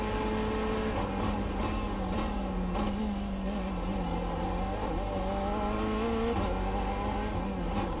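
Corvette C8.R GTE race car engine on a circuit in iRacing, a loud, continuous, raspy V8 roar with rising and falling pitch as it revs through the gears, close and alone.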